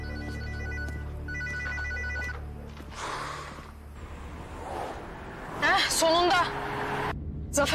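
A telephone rings with a steady repeating electronic ring, then fades as traffic and speech take over, with a bright burst of tones later.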